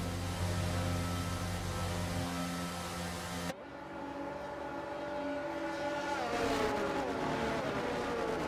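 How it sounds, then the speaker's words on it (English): Formula 1 race cars idling and revving on the starting grid in the video game F1 22, a steady droning engine hum that shifts pitch partway through, loud and continuous. "the cars take their positions on the grid"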